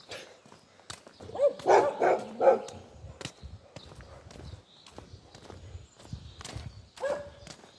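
A few dogs bark in a quick cluster of three or four yelps, then once more later, amid clattering footsteps and outdoor movement.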